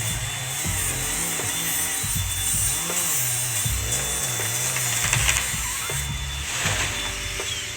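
Workers saw through and remove a whole tree at a beach house build site in Barbados, a steady engine-driven saw droning close and loud throughout, its pitch rising and falling in repeated cuts with scattered clunks and knocks.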